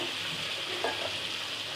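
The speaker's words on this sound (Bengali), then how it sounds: "মশলাটা খুব সুন্দরভাবে ভাজা হয়ে গেছে" Masala spices frying in a pan with a steady, soft sizzle that runs throughout, and a brief stir or scrape heard near the middle, close and fairly quiet.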